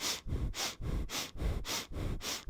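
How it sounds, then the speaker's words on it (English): Rapid rhythmic breath of fire, the kundalini breathing practice of equal inhales and exhales through the nose, pumps in five or six even, forceful cycles, close and breathy, with no talking. "The breath of fire is an equal inhale and exhale through the nose like this."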